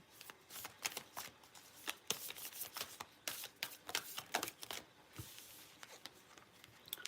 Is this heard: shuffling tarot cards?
yes